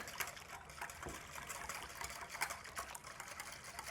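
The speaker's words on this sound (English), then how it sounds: "Got our 2 cups of boiling water in there, whisking away" Strawberry gelatin mix being whisked into two cups of boiling water, a steady wet swishing and trickling close by, continuous with small splashy accents and no talking.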